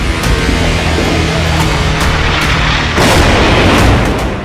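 Artillery fire from an Israeli military strike on Lebanon: a loud, dense barrage of booms and bursts rolling continuously, with a heavier swell of blasts partway through.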